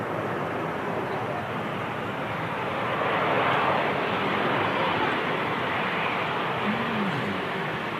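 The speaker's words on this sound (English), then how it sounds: "EasyJet A330 arriving here." An easyJet Airbus A330 arrives at Manchester Airport, its engines a broad, steady roar that swells gently toward the middle and holds, heard from a distance outdoors with faint voices under it.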